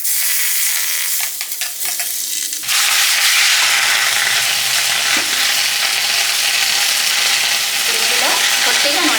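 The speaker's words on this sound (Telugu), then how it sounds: "ఇప్పుడు ఇదే కడాయిలో దోసకాయ టమాటా కూడా వేసుకొని మెత్తగా ఉడికించుకుందాం." Cucumber and tomato hit hot oil in a kadai, setting off a sudden loud, hissing sizzle that keeps going steadily up close after a quieter moment of handling.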